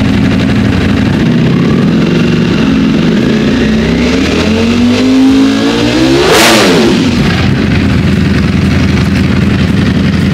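A Ducati Speciale motorcycle engine revs steadily, then climbs sharply to a high-pitched roar and drops back, loud and close throughout.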